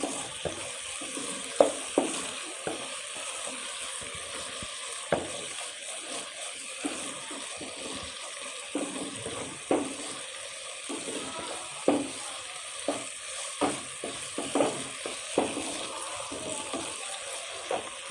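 Spiced liver roasting in a pan with a pinch of salt, a soft continuous sizzle punctuated by intermittent spatula stirs and scrapes at an irregular pace.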